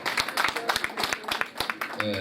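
Scattered, fairly sharp hand claps from a gala-night audience at a law class reunion, irregular and sparse over about two seconds, with talk mixed in.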